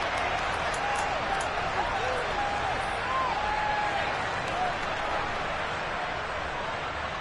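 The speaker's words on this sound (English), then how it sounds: "Plenty of shouts from this crowd as they watch the replay" Dense, steady roar of a football stadium crowd at a Patriots versus Jets game, continuous shouting and murmur filling the whole stretch, with faint whistles or calls rising above it.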